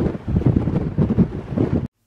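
Strong wind buffets the microphone in rough, rumbling gusts for about two seconds, then cuts off abruptly.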